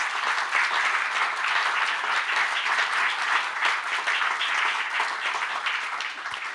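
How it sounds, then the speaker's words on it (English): An audience at an eco-activism debate applauds the panelists, a steady, even wash of many hands clapping that holds throughout with no break. "I'd like the panelists now to just give a round of applause"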